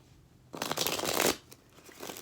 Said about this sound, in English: I'll shuffle it a few times